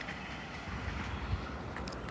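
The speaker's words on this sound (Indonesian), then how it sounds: "kereta KRL arah Jogja Solo di aliri listrik untuk bisa menjalankan keretanya" A toy electric KRL commuter train, modelled on the Jogja–Solo line, runs along its rails with a steady, close rolling rumble and faint rhythmic clicking throughout.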